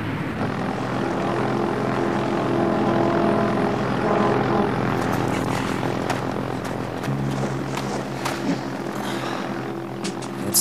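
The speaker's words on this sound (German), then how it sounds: "das Flugzeug steht startbereit" A propeller airplane engine running while the aircraft stands ready for takeoff, a loud steady droning roar that shifts in pitch partway through, close and alone without talk.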